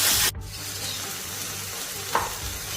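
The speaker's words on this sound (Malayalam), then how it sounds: "ഇത് നന്നായിട്ട് ഇളക്കി കൊടുക്കാം." Tomatoes cooking in a pan with garlic are stirred, giving a soft steady sizzle with scraping strokes and one brief clink near the end; no one talks.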